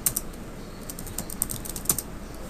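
Quick typing on a computer keyboard while entering a Unix user command in a terminal, a short run of light, close key clicks in an uneven patter with no voice.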